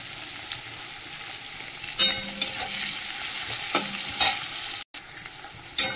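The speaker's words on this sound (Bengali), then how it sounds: "পেঁয়াজটা এবার একটু ভাজা হোক" Chopped onion and dried chilli fry in a pan with a steady close sizzle, broken by several sharp knocks and scrapes of a spatula against the pan and one brief dropout.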